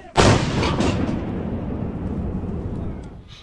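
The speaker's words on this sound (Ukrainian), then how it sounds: "Вогонь! Постріл!" A single heavy artillery gun fires one shot during military combat, a sharp loud blast followed by a long rumbling roar that slowly fades.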